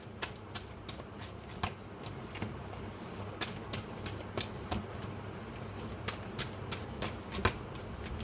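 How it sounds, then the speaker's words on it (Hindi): Tarot cards shuffled and drawn by hand, a quiet run of crisp, regular riffling snaps and flicks repeating every half second or so, close and alone. "ओके, कार्ड्स मैंने निकाल लिए हैं।"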